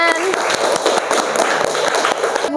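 Classroom of students applauding after presentations in a school mathematics lesson, a dense burst of clapping mixed with crowd noise and some voices, loud and close, lasting a couple of seconds.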